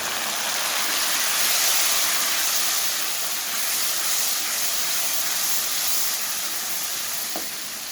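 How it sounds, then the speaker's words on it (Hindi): Spices with red chilli powder, green chillies and green garlic sizzle and fry with a splash of water in a pan for dal palak, giving a steady, close, loud hiss that thins slightly near the end. "पानी शामिल करते हुए 1 से 2 मिनट के लिए भून लेंगे।"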